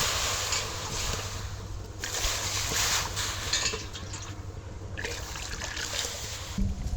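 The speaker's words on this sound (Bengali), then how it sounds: "এবার কড়াইতে জল দিয়ে দেবো" Water pours steadily into a wok on a kitchen stove, making a continuous close splashing trickle that lasts several seconds with no talking.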